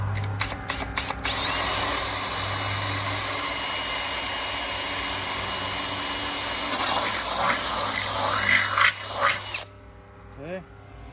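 A power drill runs almost without pause, boring holes to mount a carbon fiber fender. It is loud and near, with a steady whine, brief bursts at the start and rough grinding toward the end before it cuts off.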